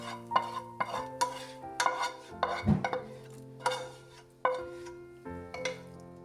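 Biryani ingredients are stirred in a cooking pot with a spoon, giving a dozen or so close, rhythmic scraping strokes against the metal, each a short sharp swish, over a low steady hum.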